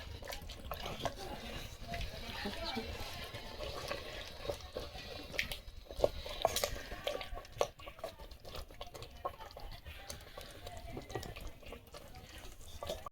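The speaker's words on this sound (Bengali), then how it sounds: "আস্তে আস্তে মটনটা নাড়তে হবে, যেহেতু মাটির হাঁড়ি, এই জন্য এখানে আমি কাঠের খুন্তি নিয়েছি।" Mutton and fried potatoes stirred slowly with a wooden spatula in a clay pot, a steady run of soft scraping and wet sloshing for several seconds, close up, with no talk.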